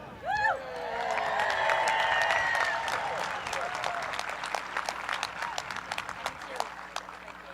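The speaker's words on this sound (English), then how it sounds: "We invite you to cheer and celebrate these amazing students as each of them is recognized today in person." A high school graduation crowd applauds and cheers, a dense steady wash of clapping with whistles and shouts that lasts throughout, while a voice speaks over it early on.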